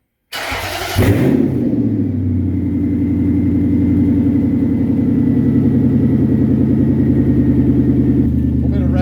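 A Nissan Titan pickup fitted with a cheap aftermarket exhaust and missing its O2 sensors cranks and fires up, then settles into a loud, deep, rumbling idle, close to the tailpipe.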